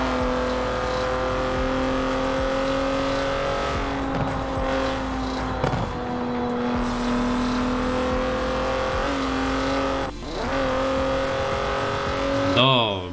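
A Mini Cooper races in Forza Horizon 4, its engine whining steadily near and loud with rising and falling revs through gear changes, brief tire squeals and a sharp rev burst at the end, while someone talks over it.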